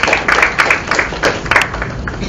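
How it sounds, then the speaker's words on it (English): Audience applause in a lecture hall: a steady patter of many hands clapping together, moderately loud and continuing with uneven rhythm throughout. "I want you to clap once in appreciation"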